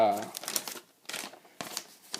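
Paper wiring diagram sheet handled and crinkled close by in a short series of rustling bursts, with a brief voice at the start.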